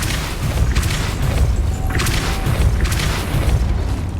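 A Depulso spell is cast in Hogwarts Legacy, a deep booming burst with a whooshing rush and heavy low rumble, followed by a few more swelling blasts of force.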